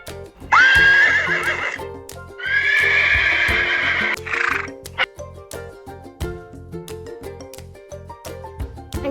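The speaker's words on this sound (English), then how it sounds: "horse," Two loud, close horse neighs, one short and one longer, whinnying over a rhythmic plodding backing.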